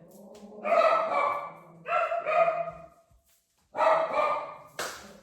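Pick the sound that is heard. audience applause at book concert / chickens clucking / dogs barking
dogs barking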